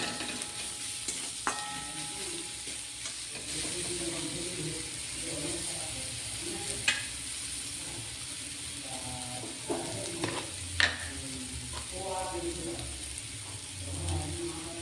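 Onion, garlic and ginger stir-fried in a pan, with a steady soft sizzle and occasional scraping clicks of a utensil stirring, close and moderately loud throughout.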